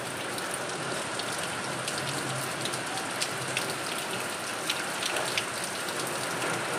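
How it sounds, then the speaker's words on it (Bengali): Heavy rain pours outside in dark, stormy weather, a dense, even hiss of falling drops with scattered sharper patters, steady and moderately loud with no voices. "বাইরে ঝমঝম করে বৃষ্টি পড়ছে"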